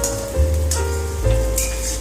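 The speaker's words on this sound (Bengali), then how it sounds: "এর সঙ্গে এবার আমরা রসুন আর আদা বাটা যেটা আছে সেটা মেশানো" Garlic and ginger paste stirred into reddened fried onions in a pan over medium heat, a steady close sizzle with scraping stir strokes and a light clink near the middle.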